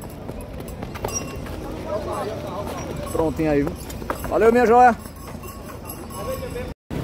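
A mare being walked and turned around at the Bezerros horse fair, her hooves clip-clopping on the ground in a loose, uneven rhythm beneath loud, continuous talk from several people nearby.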